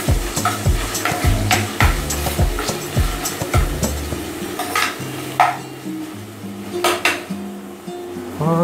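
Monggo (mung beans) cooking in a pot with ginger, with a steady bubbling sizzle under repeated clanks and scrapes of a utensil against the pot, close and busy throughout.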